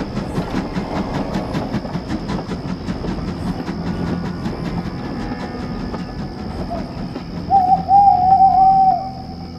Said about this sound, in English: Soon, they reached the tunnel, and Henry puffed cautiously inside.